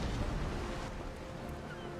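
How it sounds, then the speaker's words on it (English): Ship explosions roar through a naval battle in Napoleon Total War, a dense, continuous wash of booming cannon and blast noise that stays loud and rumbling for the whole stretch, with no voices. "Oh, man, those explosions are so epic."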